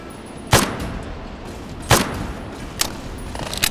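Gunfire in the video game Fallout New Vegas: three or four sharp, widely spaced shots cracking out over a steady background hiss, with the last ones weaker and more distant.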